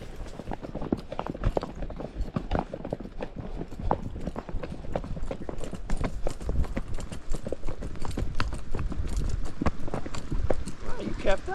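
Horse hooves clip-clop steadily and close on a trail ride, a brisk irregular rhythm running the whole way with people talking over it.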